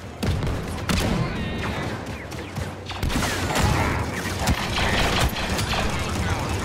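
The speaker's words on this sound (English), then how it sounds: "Oh, these are like shotguns." Rapid shotgun blasts and dense gunfire in Star Wars Battlefront II, a busy online battle with continuous loud shots, mechanical clatter and explosions layered over game ambience, with a player talking intermittently.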